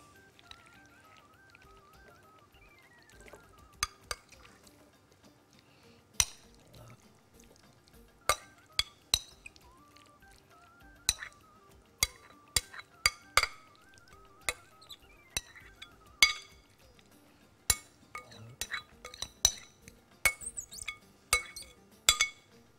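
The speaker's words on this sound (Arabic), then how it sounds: "ابتدي احط هنا طبق السلطه" A serving plate of beetroot and herring salad being arranged and set down, with scattered light clinks and taps of dishware, some close and crisp, others soft, and no voices.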